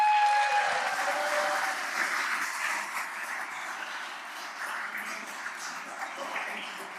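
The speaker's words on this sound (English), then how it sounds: "One big round of applause." Applause from an audience at a school board trustees meeting, a dense patter of clapping that starts strong and gradually thins and softens over several seconds.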